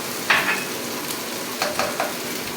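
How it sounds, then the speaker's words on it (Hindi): Tomato paste and spices frying in a pan for a Punjabi aloo palak, a steady soft sizzle with a few brief scraping stirs standing out near the start and again toward the end. "अब मैं डाल दूँगी इसमें टोमेटो पेस्ट"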